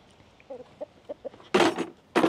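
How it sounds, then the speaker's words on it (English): Soft, scattered clucks from a chicken on a farm, then two loud, harsh bursts of rooster calling up close, each lasting about half a second. "And you got a brave rooster over here."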